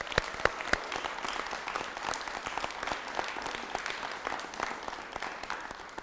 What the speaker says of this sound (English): let's do a round of applause for our Team EMU folks